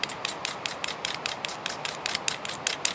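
A knife scrapes a magnesium fire starter block in quick repeated strokes, about a dozen rasping passes, close and steady with no talk.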